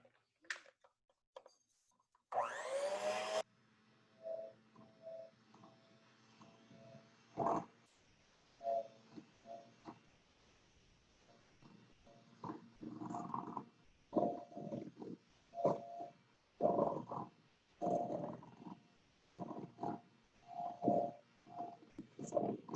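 Egg yolks and sugar whisked together in a bowl for tiramisu, heard as soft, irregular scraping and tapping strokes that repeat steadily, close by and fairly quiet, with brief pauses between bursts.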